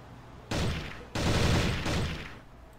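Two sustained bursts of automatic game gunfire, loud and near, the second longer and fading out toward the end.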